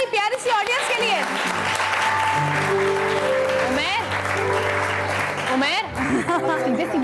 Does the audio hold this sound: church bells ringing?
no